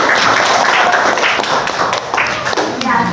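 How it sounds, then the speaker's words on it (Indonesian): Classmates clap in a classroom for three fellow students, a brief burst of mixed, uneven hand claps with voices mingling underneath. "tepuk tangan untuk ketiga teman."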